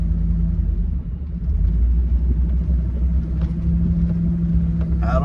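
An old car runs rough after a cheap fuel line repair, its engine giving a loud, steady low rumble from inside the cabin with a slight uneven dip early on.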